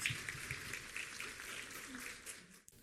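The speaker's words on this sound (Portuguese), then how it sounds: "recebamos com uma calorosa salva de palmas o senhor Anderson Salles" An audience applauds to welcome Anderson Salles onto the stage at a talk, a steady wash of clapping held at moderate level for a few seconds before cutting off abruptly.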